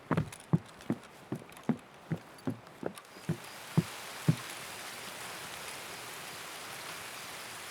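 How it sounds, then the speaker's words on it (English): About a dozen evenly spaced hoofbeats of a galloping horse in the game Escape from Tarkov, fairly close, stop after a few seconds and leave a steady rain-like hiss. "There's a horse."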